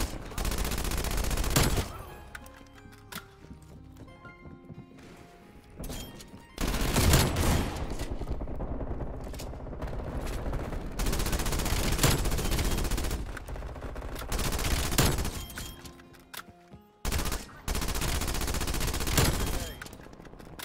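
Rapid bursts of PPSh-41 submachine gun fire in Call of Duty Cold War, loud and close, broken by brief pauses among other game sounds.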